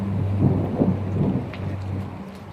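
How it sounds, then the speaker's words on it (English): A thunderstorm breaks out over Oregon after a clear day, with deep rolling thunder rumbling continuously over steady rain. "now we're in the midst of a thunderstorm. We got thunder and lightning."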